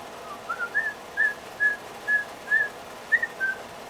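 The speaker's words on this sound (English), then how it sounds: "I'm going to try to whistle" A person whistles a short series of about eight clear, evenly spaced notes, close and fairly loud against quiet background hiss.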